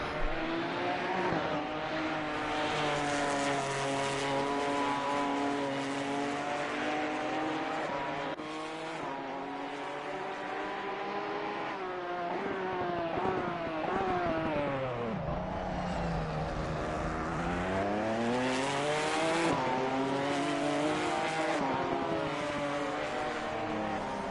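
Ginetta GT4 Super Cup race cars, G55 or G56, racing at Monza, engines loud and continuous with rising and falling pitch as they pass close by, gear changes and revving throughout, with no talk.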